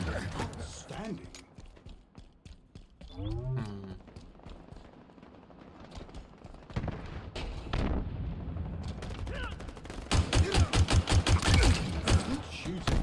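Video game gunfire rings out as scattered mechanical shots, then rapid loud bursts near the end, mixed with in-game voices and other game sounds.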